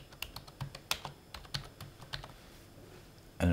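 Keys tapped on a computer keyboard while entering a label into a cell of an Excel 2010 spreadsheet, a quick irregular run of close, crisp clicks with brief pauses and one heavier keystroke at the end.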